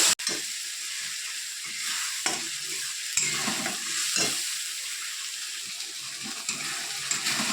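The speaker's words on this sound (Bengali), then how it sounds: "পেঁয়াজ বাটা দিয়ে দিলাম তারপর আদা রসুন বাটা দিয়ে দিলাম তারপর টমেটো বাটা দিয়ে দিলাম দিয়ে মশলাটা একটু কষাবো" Onion paste, ginger-garlic paste and tomato paste sauté into a masala in a pan for a katla fish and cauliflower curry, with a close, busy sizzle and repeated scraping stirs, no voices.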